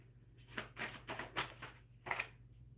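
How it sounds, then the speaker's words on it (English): Deck of tarot cards being shuffled by hand, a quiet close series of soft riffling bursts and taps over a low background hum. "Let's shuffle these."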